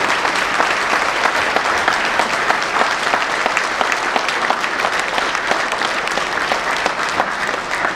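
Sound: audience applause at an award ceremony

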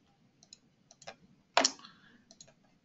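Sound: computer mouse clicking

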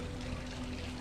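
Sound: water bubbling in resort fountain pond

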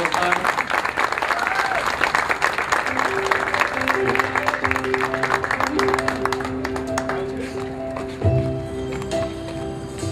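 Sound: applause at a quinceañera ceremony

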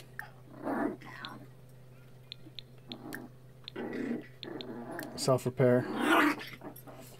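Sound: puppies growling in The Sims video game

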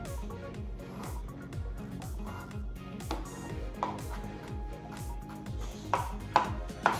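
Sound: dicing pickles with a knife on a board

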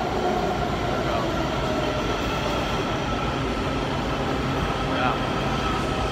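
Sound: tram passing by in Washington DC

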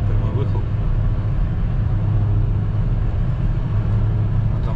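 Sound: car with dual straight-pipe exhaust driving on snowy road

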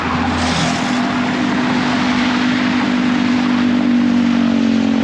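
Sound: busy road car traffic

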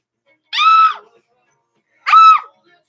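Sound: people screaming in a bathtub

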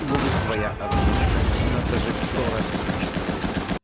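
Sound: gunfire from a video game

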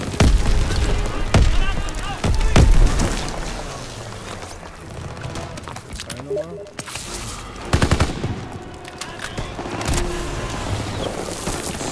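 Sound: grenade explosion amid gunfire in Call of Duty WWII video game

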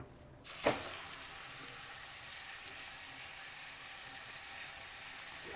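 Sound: grated sweet pumpkin roasting in ghee in a pan

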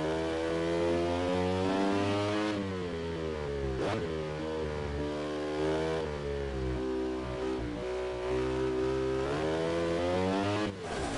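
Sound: motorcycle engine revving in a video game

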